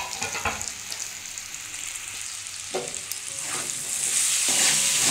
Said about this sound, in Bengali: আমার সিম আলু দেখুন ভাজা হয়ে গেছে